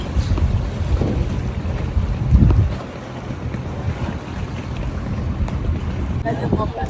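A trawler travels on a rough river with a low engine rumble under wind buffeting and splashing water. Muffled voices mix in, and the sound swells briefly before settling into a steady drone.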